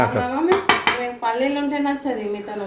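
A metal pot clinks and scrapes as tamarind rice (pulihora) is stirred and mixed in a village kitchen, a few sharp clinks under a voice talking continuously.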